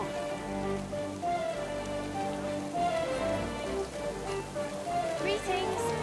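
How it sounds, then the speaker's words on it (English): Rain falls in the medieval game Kingdom Come: Deliverance II, an even patter beneath a busy layer of tonal game sound, with a voice mixed in. "Don't mind the rain."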